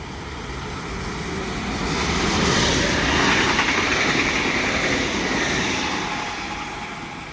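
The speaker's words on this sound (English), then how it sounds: "here comes my train to work" A train arriving at an Australian railway station, its rolling roar swelling loud and close midway then easing off, with steady wheel rumble and no talking.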